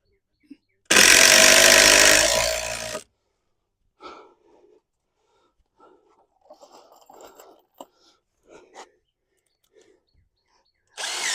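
A power drill driving screws into wooden deck steps gives one loud, sustained whir of about two seconds, then quieter scattered bumps and handling noises follow, with a brief drill burst at the very end.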